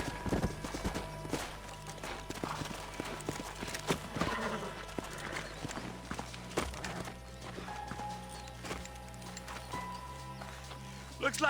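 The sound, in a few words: horses' hooves in the video game Red Dead Redemption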